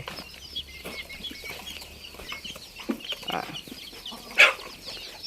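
Chickens in a backyard coop raising chicks cluck intermittently, with a few bursts of wing flapping and one sharper squawk near the end, moderately close and with no talk over them.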